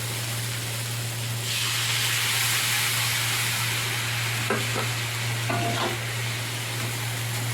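Potatoes and okra cook in a pan after a little water is splashed in, giving a broad, steady hiss of sizzling and steam with a few faint stirring knocks. No one speaks.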